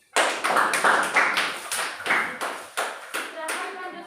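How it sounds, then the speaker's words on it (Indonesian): A group of students applauds during an online class, with a run of about a dozen sharp, close handclap bursts in steady rhythm that fade slightly toward the end. "silakan untuk kelompok 3 beri aplaus"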